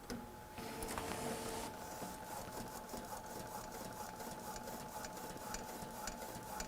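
A small VersiFlex printing press prints wet-ink pages with quiet rapid mechanical ticking and clatter. A brief louder whir sets off a long run of evenly spaced clicks.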